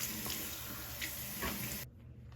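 Tap water runs into a bathroom sink while a face is rinsed, a steady close splashing with a few brief louder gushes, then cuts off abruptly near the end, leaving quiet.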